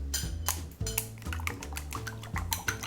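Eggs being whisked with salt and pepper in a bowl for an omelette, giving a quick rhythmic clinking and tapping of utensil against the bowl, close and steady without talk.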